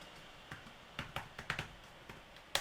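Keys on a computer keyboard tapped while typing a folder name, a sparse run of quiet, close clicks in an uneven rhythm with a final sharper keystroke and no speech.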